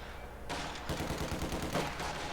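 Battlefield gunfire from the World War II strategy game Company of Heroes 2, with dense machine-gun bursts and rifle shots firing continuously and loudly, starting with a sudden onset and holding a steady, crackling barrage.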